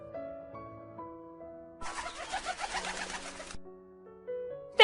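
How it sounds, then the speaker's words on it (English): Cartoon birds in a Cinderella story, soft cooing and chirping notes over light music, then a burst of fluttering, pecking bustle in the middle before gentle tones return. "Little birds, please come here and help me sort these peas."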